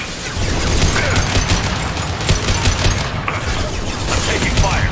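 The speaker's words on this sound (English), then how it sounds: "I'm taking fire." Dense gunfire in the video game Mass Effect 2 during a firefight with Blue Suns and other mercenaries, a loud, continuous barrage of overlapping shots and impacts with a voice heard over it.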